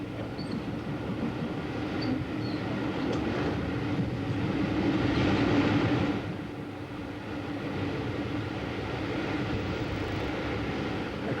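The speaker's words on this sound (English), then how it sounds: "The train crosses over one of the great engineering features of the Brighton line, the Ouse Valley Viaduct" A Southern Railway Pullman train rumbles steadily across the Ouse Valley Viaduct on the Brighton line, a continuous rolling roar with a low hum that swells in the middle and eases slightly toward the end, heard alone without voices.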